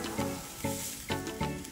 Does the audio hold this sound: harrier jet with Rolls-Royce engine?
no